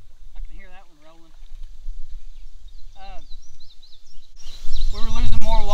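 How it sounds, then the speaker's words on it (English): Water runs and gurgles through an irrigation gate in a farm field outdoors, a steady low rush with bird calls above it, swelling louder and fuller near the end. "So we can hear water running down here"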